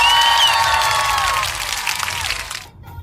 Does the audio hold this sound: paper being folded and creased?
no